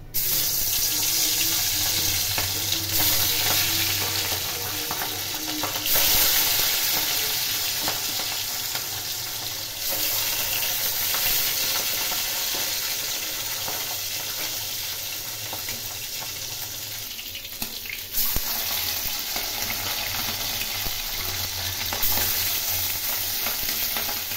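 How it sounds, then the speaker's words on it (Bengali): Fish sizzling as it fries in a pan for Bengali bacha machher jhol, a loud, steady crackle that runs the whole time with a few shifts and stirring knocks and no voices. "মাছগুলো ভেজে নিচ্ছি।"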